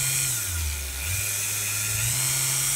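A Dremel 4000 rotary tool fitted with a metal cutting blade runs steadily at high speed, a loud close whine that dips briefly in pitch and then holds constant.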